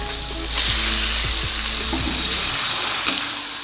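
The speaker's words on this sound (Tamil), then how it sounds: "இப்போ நம்ம கழுவி வச்சுருக்கிற இந்த இறாலை வந்து இதில் சேர்த்துக்கலாம்." Prawns being added to a pan of frying onion and tomato, a loud hiss and sizzle surging up, then settling into a steady fry with a few scraping stirs, close and with no talk.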